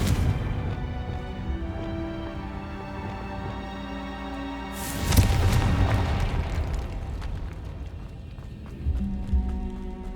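Confringo spell in Hogwarts Legacy, a sudden loud burst midway with a booming crackle that decays, over low ambient game music and footsteps, followed by a smaller thump near the end.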